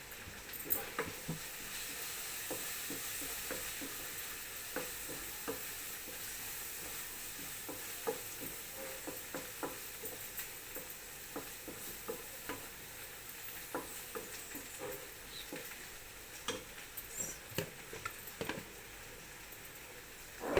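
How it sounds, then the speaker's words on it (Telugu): Ginger garlic paste frying with chili powder in a pan for a bhindi masala curry, a steady soft sizzle with occasional stirring scrapes and clicks throughout, no voices. "కారం వేసుకుని ఆ అల్లం వెల్లుల్లి పేస్ట్ని బాగా పచ్చిపోయేంత వరకు ఫ్రై చేసుకోవాలి."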